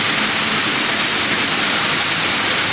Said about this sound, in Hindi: कितना घनघोर बारिश है सर